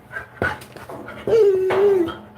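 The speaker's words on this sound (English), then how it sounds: "I've got a little bit of an anxious Thomas here, so he might be a little barky" An anxious dog gives short yips and barks, then a drawn-out high whimper, close and fairly loud against a quiet background, with no talking.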